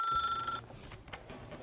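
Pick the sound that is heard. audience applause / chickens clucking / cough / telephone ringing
telephone ringing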